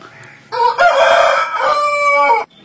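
An aseel fighting rooster crows once, close and loud, with a strong call of about two seconds that holds steady and then cuts off, heard alone with no talk.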